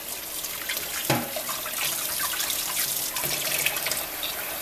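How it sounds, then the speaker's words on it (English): Catfish fillets are rinsed under a running kitchen faucet, steady splashing water hissing into the sink with small shifts as the fish is moved by hand, close and continuous. "Right here, I'm washing the fish."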